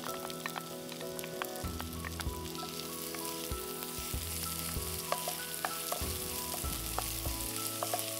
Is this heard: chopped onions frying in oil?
yes